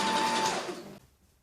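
A sewing machine runs a close stitch along the neckline of gold metallic lycra stretch fabric, a steady whirring burst for about a second that then stops, leaving near silence.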